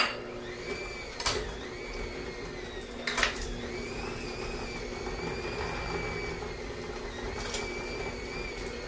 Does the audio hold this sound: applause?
no